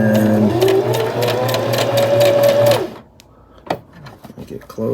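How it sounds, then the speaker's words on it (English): A sewing machine runs in a close, steady mechanical whir with a rapid rhythmic needle pulse while back-stitching to lock a stitch, then stops abruptly about three seconds in, leaving light handling clicks and rustles. "I'm going to hit the back button just to kind of lock in the stitch."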